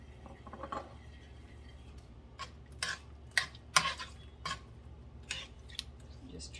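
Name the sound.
stirring pork hock in a pot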